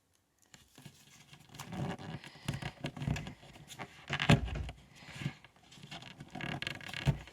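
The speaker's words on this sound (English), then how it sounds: "I'm just going to fold it down on that edge." Origami paper folded by hand into a crane, soft crinkling, scraping and creasing rustles in irregular bursts, close and quiet, with no talk.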